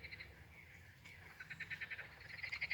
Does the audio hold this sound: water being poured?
no